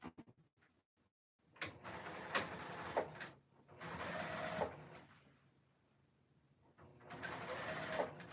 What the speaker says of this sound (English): Trying to use my sewing machine over here.